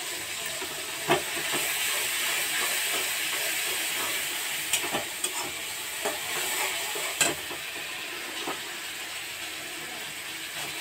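Turmeric, salt and chili powder fry in a pan for a Bengali kochur loti dish with dried shrimp, a steady broadband sizzle with sharp scraping stirs at irregular intervals, close and continuous.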